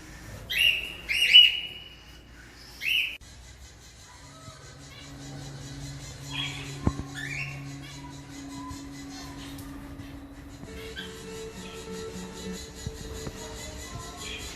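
A pair of zebra finches in a cage with a nest and chicks give a few sharp, close chirps early on, then quieter high peeps over a low steady hum, with no talking.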